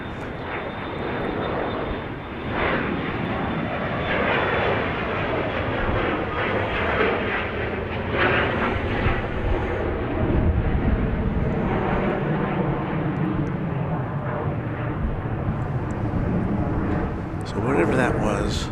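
Aircraft engines roar steadily at Dallas Love Field as planes take off and land, a loud sustained rumble lasting throughout, with a person talking over it.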